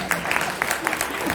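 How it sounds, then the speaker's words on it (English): Audience clapping at a motivational talk on self-respect, a dense, steady round of applause from a room full of people, with individual claps popping out over the sustained patter. "Please clap for me."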